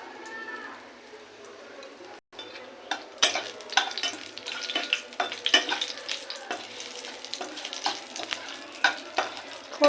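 Bay leaves, crushed cardamom and whole cumin crackle in hot oil as a tempering, with sharp spattering pops and stirring scrapes after a quiet opening.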